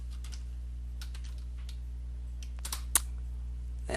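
Someone types a password on a computer keyboard, irregular soft key clicks tapping away close by over a steady low hum, with a sharper click near the end.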